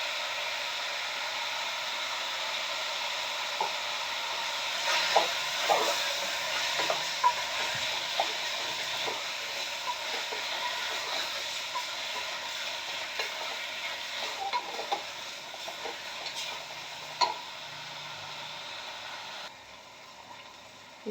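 Rice fries in a pan with a steady, close sizzle, joined by scraping stirs and occasional sharp clacks of a spoon against the pan; no voices.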